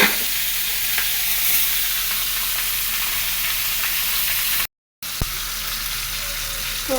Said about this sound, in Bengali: মাছটা একটু ভালোভাবে ভেজে নিই, গরম তেলে মাছ দিয়ে দিই।